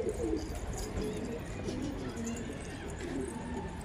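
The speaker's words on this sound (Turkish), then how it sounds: "Bak hepsi bayağı bir ötüyor" Pigeons coo in soft, repeated low calls amid a noisy mix of other bird chatter, fairly close and moderately quiet throughout.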